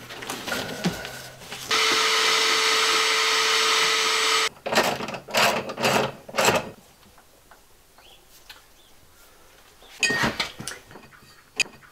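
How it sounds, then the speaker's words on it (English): A vacuum cleaner's loud, steady motor roar runs for a few seconds inside a converted school bus and cuts off abruptly, followed by clattering knocks and scraping noises. "need to vacuum up all that crap though"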